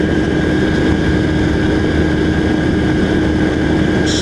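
A Honda Super Cub C125 motorcycle engine running on an economy ride with gentle throttle, a loud, steady, unbroken drone with wind noise over it.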